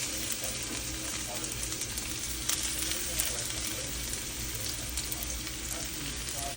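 Ginger garlic paste frying in a pan gives a steady sizzle, with a few sharp scraping clicks from stirring and no voices.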